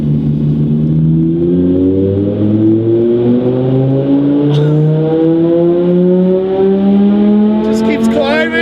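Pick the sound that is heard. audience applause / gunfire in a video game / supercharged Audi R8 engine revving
supercharged Audi R8 engine revving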